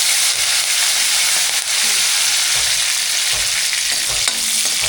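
Fennel seeds and curry leaves crackle in hot oil in a pan, a loud, dense, continuous hiss and sizzle heard up close with no voices.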